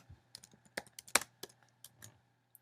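Keys clacking on a computer keyboard as a file name is typed: an uneven run of close, crisp clicks of varying loudness, with one sharper hit in the middle, over a faint low hum and no talking.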